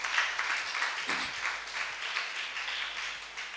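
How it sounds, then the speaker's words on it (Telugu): Church congregation at a Sunday service clapping together in praise, a steady wash of many hands applauding at moderate distance with a faint hum beneath. "వారందరూ కూడా ఇంకోసారి గట్టిగా చప్పట్లు కూడా దేవుని మహిమపరుద్దాం"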